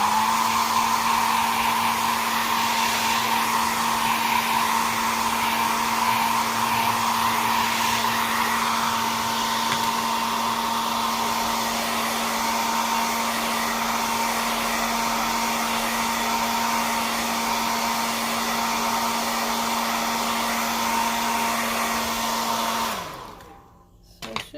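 A hair dryer runs close and loud, blowing steadily on wet one-stroke acrylic paint for a bluebonnet flower painting, then switches off near the end.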